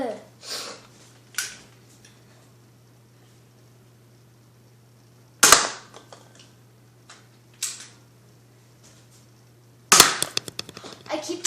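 Nerf gun shots aimed at a Pepsi bottle: a few sharp, separate pops and clacks spaced several seconds apart, with the last burst followed by a quick rattle of small ticks, over a faint steady hum.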